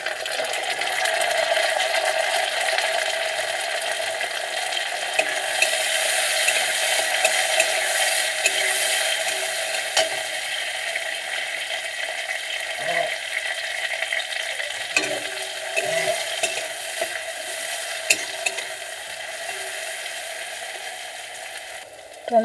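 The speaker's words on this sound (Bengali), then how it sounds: "ওই তেলেই দিয়ে দেব পেঁয়াজ কুচি, তারপর দিয়ে দিলাম টমেটো কুচি।" Chopped onion and tomato frying in the oil left from cooking silver fish, a steady, close sizzle with faint stirring scrapes, no talk.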